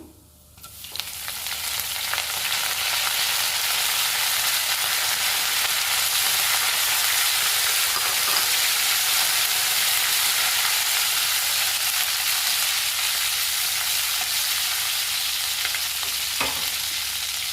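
Curry leaves hit hot tempering oil and burst into a loud, continuous sizzle right after a brief quiet start, crackling steadily and close up with no talk.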